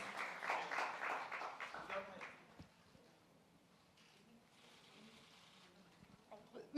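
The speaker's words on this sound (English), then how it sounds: "A huge round of applause." Audience applause at a launch event for Pond's Pimple Clear face wash, a burst of clapping that is strongest at the start and then fades into quieter crowd murmur.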